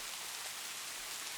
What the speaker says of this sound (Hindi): जिसपे बारिश का पानी गिर रहा होता है